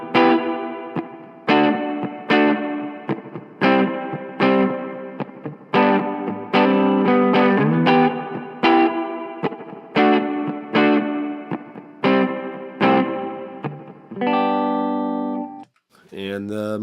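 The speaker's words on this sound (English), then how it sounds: "Let's go to a spring reverb. Here is the stock version." Electric guitar played through the stock spring reverb of a Line 6 M5 pedal: a run of strummed chords and riffs, each with a splashy reverb tail, closing on a held ringing chord, loud and with no voices.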